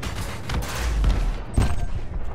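Ship laser fire crackles in a space dogfight in Elite: Dangerous, rapid bursts of zapping shots layered over a low engine rumble, with two sharper hits.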